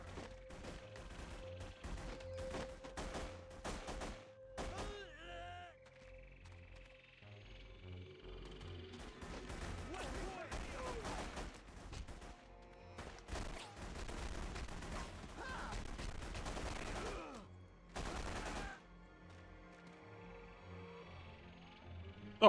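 Gunfire from The Punisher video game crackles in repeated bursts and scattered shots over a long stretch, mixed with crashes and game sounds, fairly faint overall.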